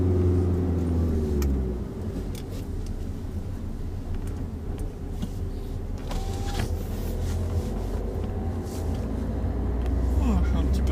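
A car's engine hums low while the driver shifts gently from first into second gear. The note dips around the change, then builds again, with a faint whine and talking over it.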